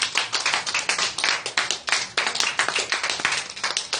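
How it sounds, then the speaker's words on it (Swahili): A church congregation claps loudly and rapidly together during a Bible study and prayer meeting, a dense, continuous, close patter of many hands for about four seconds. "Pigia Bwana makofi makubwa."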